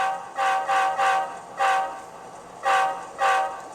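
A small HO-scale Athearn Genesis Dash 9 (9-44CW) model locomotive horn with Tsunami 2 DCC sound honks five times in the shave-and-a-haircut rhythm, with a pause before the last two notes, clear and close.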